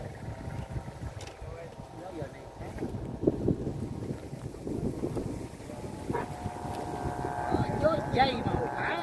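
Steady wind buffets the microphone at an outdoor kite-flying gathering, a continuous rushing roar under nearby voices talking throughout.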